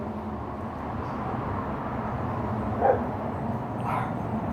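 Dogs bark and yip at the mail lady at the front door, a couple of brief, muffled barks from another room over a steady background hum.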